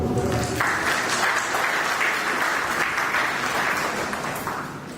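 An audience at an award ceremony breaks into sustained applause, a broad wash of clapping that holds steady and loud for several seconds, with a faint voice briefly under it at the start.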